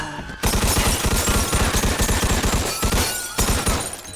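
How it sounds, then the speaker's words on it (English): Tommy gun fire in Mafia 2, a loud close rapid stream of shots that runs almost unbroken for about four seconds, with breaking glass mixed in and two brief pauses. "Actually, I should be using the Tommy gun for this."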